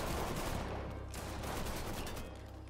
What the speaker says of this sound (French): Mais sur qui vous tirez?